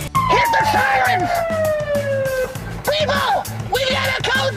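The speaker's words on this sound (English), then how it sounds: "Hit the sirens!" Police car siren wails loudly and close, a long descending tone sweeping under shouting voices and music from a TV home-makeover show.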